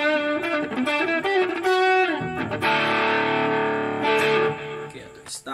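An electric guitar plays through a Caline Honeycomb distortion pedal into a Marshall Valvestate amp in a home session. Loud, thick and sustained, with chords ringing out, a brief break near two seconds, and more strummed chords after it.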